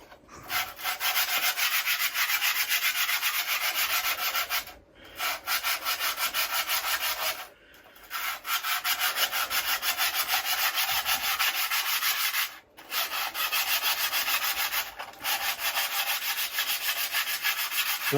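Car brake and clutch pedals from a Marcos Mantula being blasted clean of rust: a loud, steady, close hissing roar that runs continuously, broken by a few brief pauses, with no speech.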